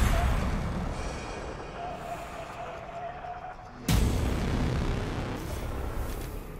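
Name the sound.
explosion potion blast in the video game The Evil Within 2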